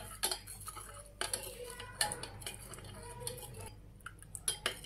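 A spoon tips a tablespoon of chia seeds into a glass of warm water, producing a handful of sharp, spaced metallic clinks against the glass, quiet and close with no one speaking.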